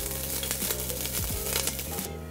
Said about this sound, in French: Nous allons faire revenir quelques gousses d'ail avec un filet d'huile d'olive, un petit peu de concentré de tomate et nos épices à couscous